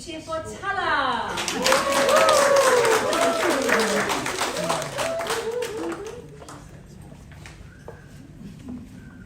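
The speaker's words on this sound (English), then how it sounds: "A big cheer for Tala." An audience at a PWPDP graduation ceremony in Samoa claps and cheers for a graduate, with a loud burst of applause and excited shouts that gradually fade, and an announcer's voice heard at the start.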